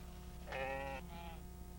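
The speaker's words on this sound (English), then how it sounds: "We have 25 sheep," A single sheep bleats once, a short wavering cry of about half a second, over quiet rural background on a small farm settlement with livestock.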